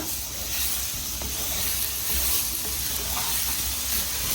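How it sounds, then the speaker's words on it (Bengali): Spices for fish head curry being stir-fried in a hot pan give a steady, close sizzling hiss throughout, with faint stirring scrapes and no voices. "এখন ভালো করে মশলাগুলোকে আবার একটু কষিয়ে নিচ্ছে"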